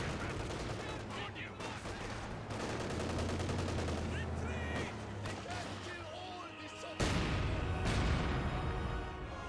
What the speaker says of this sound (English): We do have these guys firing away, hitting this guy.